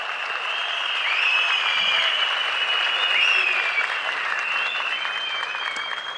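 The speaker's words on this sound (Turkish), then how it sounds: "Alkışlarınızla." Steady crowd applause rolls on at a CHP political rally in Muğla, continuous dense clapping from a large audience with a faint high whistle-like tone running through it, unbroken for the whole stretch.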